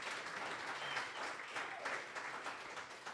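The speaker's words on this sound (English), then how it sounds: "Now you can clap." Audience applause after band members are introduced at a jazz CD release concert: continuous dense clapping from a room of listeners, steady and moderately distant, with no talk over it.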